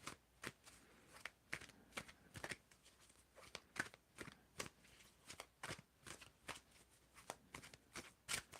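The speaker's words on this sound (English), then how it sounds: "when do you want me to stop shuffling Pricer Blocks?" Tarot cards are riffled and shuffled in quick, crisp bursts, repeated rhythmically at close range, quiet and with no voices.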